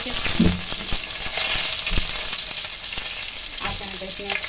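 Green chilies sizzling in hot mustard oil with black mustard seeds, a steady loud frying hiss close up, with occasional clinks and stirring scrapes.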